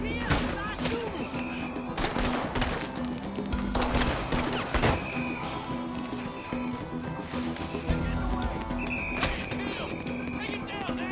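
Gunfire crackles through a PS4 video game, with repeated shots and bursts mixed with galloping horses and shouting voices in a loud, busy battle scene.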